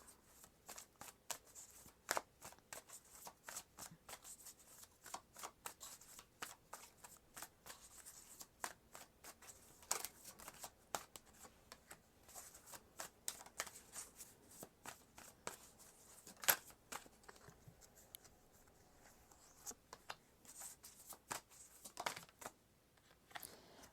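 Tarot cards handled and shuffled during a card reading, a steady run of soft, close riffling clicks and flicks with brief sharper snaps, fairly quiet and with no talking.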